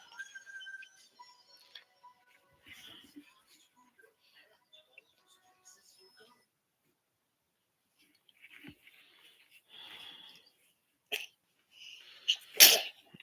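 A single sharp sneeze bursts out near the end, loud and close, after a long stretch of near silence with faint scattered noises.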